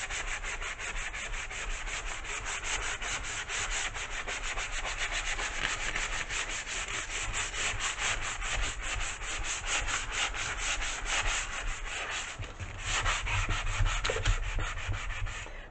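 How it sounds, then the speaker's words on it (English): A sanding sponge rubbed over a painted wooden sign in steady, rapid back-and-forth strokes, a close, continuous scratchy rasp with no talking. "I'm just going to use my sanding sponge from Dollar Tree, and I'm going to sand down"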